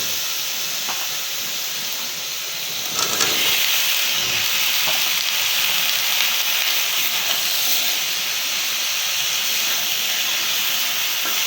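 Bottle gourd dropped into hot spiced oil for a prawn and gourd curry, giving a steady broad sizzle and hiss that swells slightly after the first few seconds and continues evenly to the end, with no voices.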